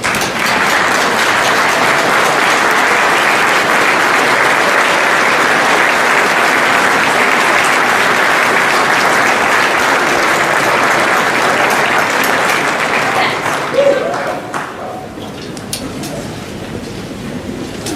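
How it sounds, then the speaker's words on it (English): A large crowd applauds at the grand opening of the Mountain America Center in Idaho Falls, a dense, loud, sustained wash of clapping that fades out near the end. "give yourselves a round of applause for a job well done"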